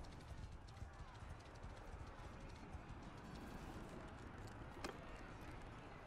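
Horse hooves clopping in the video game Mount & Blade Bannerlord, a dense continuous rumble of many hoofbeats from massed cavalry, steady and moderately loud throughout.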